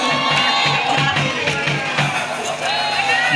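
A crowd of spectators cheers and shouts at a men's neighbourhood volleyball match between RT 01 and RT 03, loud and sustained, with children's voices and a commentator talking over it.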